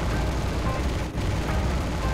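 Steady, dense in-game gunfire and explosive rumble from the World War II shooter Enlisted, loud and continuous throughout with a brief dip near the middle, no voices.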